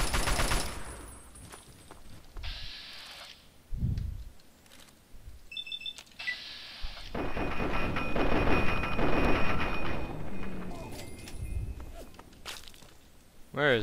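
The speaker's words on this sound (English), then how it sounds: "Assault rifle." Assault rifle gunfire in Fallout 3 comes in bursts and scattered shots at close range, mixed with other game sounds and intermittent thumps, building into sustained rattling fire.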